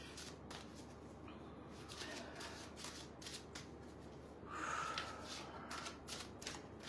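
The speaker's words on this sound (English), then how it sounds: "as I shuffle the cards" Soft riffling and flicking of playing cards being shuffled, a quick patter of papery snaps repeating close by at low volume.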